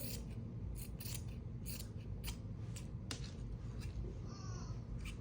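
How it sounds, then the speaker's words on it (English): Scissors snip through a fabric seam on a summer dress being sewn, a series of close, crisp cutting clicks at an irregular pace over a steady low background hum. "And then I'm going to trim."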